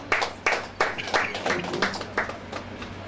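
Clapping at a beauty pageant for married women in Nigeria comes in sparse, uneven bursts, fairly faint and thin, like a small scattered group applauding.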